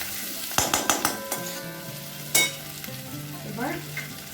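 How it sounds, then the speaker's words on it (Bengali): Chicken pieces frying with garlic and garlic greens in a pan for chilli chicken, a steady sizzle broken by a quick series of metallic scrapes and clinks from stirring, then softer stirring under the continuing fry. "একটু এটার সাথে ভেজে নিই"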